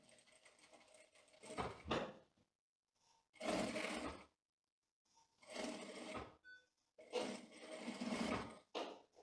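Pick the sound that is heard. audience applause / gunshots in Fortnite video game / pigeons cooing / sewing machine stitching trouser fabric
sewing machine stitching trouser fabric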